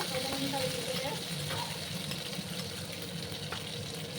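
Green chillies, coriander leaves and stems, and sliced onion sautéing in a hot pan give a steady, close, even sizzle that holds at a constant level with no talking over it.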